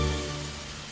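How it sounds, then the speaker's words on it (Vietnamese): Steady heavy rain in an animated cartoon, a dense continuous hiss and patter of drops with no voices, loud and even throughout. "Trời mưa quá, mình nghĩ nên đội nón đi"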